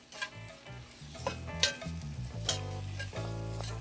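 Garlic and tomatoes stirred in a hot pot, with a spoon repeatedly scraping and knocking against the metal over a soft, continuous sizzle, nearby and with no voices.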